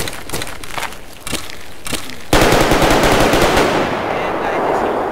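Rapid bursts of gunfire in the Roblox game Tarkov, sporadic at first, then a dense, loud barrage of automatic shots that continues steadily to the end.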